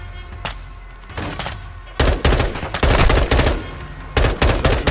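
Bursts of rapid video game gunfire from Call of Duty: Modern Warfare 2 crack out in volleys, some single shots and some fast automatic strings, loud and sharp with brief pauses between.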